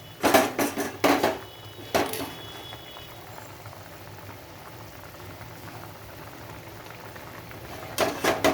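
A papaya curry with split-pea lentil fritters simmers in a pot, with soft, continuous bubbling through the middle and sharp clinks of a utensil against the pot at the start and end.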